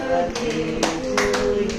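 Several sharp hand claps land in an irregular rhythm at a birthday celebration, close and bright, over a background of voices and faint music.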